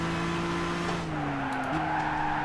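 A race car slides sideways in Gran Turismo, its engine a loud, steady, close drone that dips slightly in pitch and then recovers, with faint tire noise underneath.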